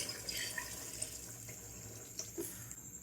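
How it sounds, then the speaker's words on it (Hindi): About one litre of water runs steadily into a cooking pot of boiling yogurt for rice pulao, a faint continuous splashing pour with no talk. "1 लीटर हमने इसमें पानी ऐड करेंगे"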